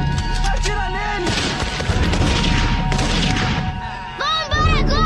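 Gunfire erupts in a tense film scene as shots are fired at a man, loud cracking bursts and impacts clustering over several seconds while frantic voices shout over them.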